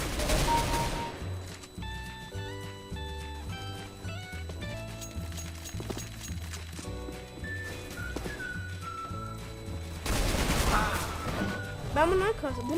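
Bursts of gunfire from the video game CS:GO rattle in rapid clusters over busy game sounds and background music, with layered shots from several directions and louder volleys near the end.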